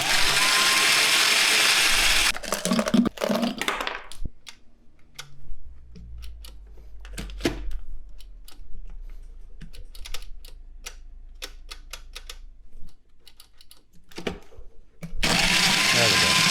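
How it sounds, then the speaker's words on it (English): A blender blending a frozen piña colada whirs loudly at the start, then cuts out; quieter clicking and knocking follow before the motor surges again near the end. "Let's just blend it, man."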